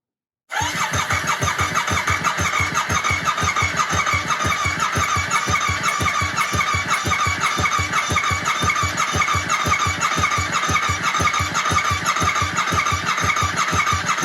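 A Yamaha R7 sport motorcycle being rebuilt, running with no exhaust fitted, fires up after a short silence and settles into a loud, even, rapid idle pulse that stays steady and close to the end.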